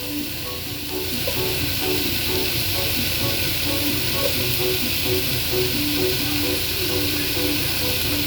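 Onions sautéing in a pan for pancit batu give off a steady, continuous sizzling hiss from start to finish, with faint tonal sounds in the background.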